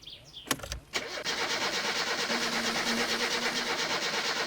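A van engine in the driving game My Summer Car cranks with a few sharp starter bursts, catches and settles into a steady, rhythmic idle that runs close and fairly loud.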